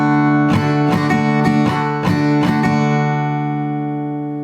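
Acoustic guitar strummed in a down-down-down-up rhythm for a song, with about eight close, crisp chord strokes over sustained ringing strings that fade out at the end.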